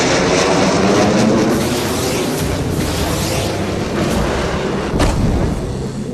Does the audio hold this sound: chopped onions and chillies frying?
no